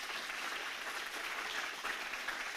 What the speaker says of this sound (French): qu'on peut applaudir absolument.